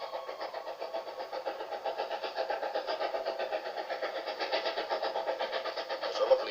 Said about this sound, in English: I just love the sound of it. Steam engines